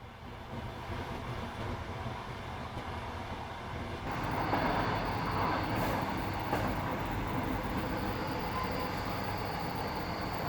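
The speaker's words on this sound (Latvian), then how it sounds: "Kā jau vilciens bez aizķeršanās un precīzi 11. ieripo Kolārī." A passenger train rolling into Kolari station beyond the Arctic Circle, a continuous rumble of wheels and carriages that grows louder midway, with faint squeals and no talk.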